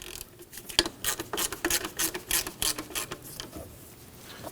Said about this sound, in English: To do that, we need to loosen the pinch bolt.